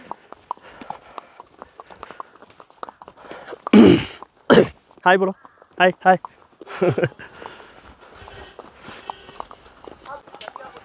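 A horse is led along at Pahalgam in Kashmir, its hooves making sharp, scattered clip-clops that sound close by. A voice speaks briefly in the middle of the hoofbeats.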